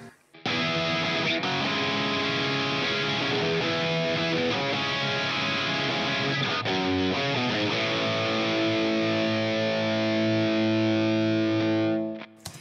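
A heavily distorted electric guitar through Helix Native plays loud, saturated rock chords and riffs for about twelve seconds, crunchy and sustained, then rings out.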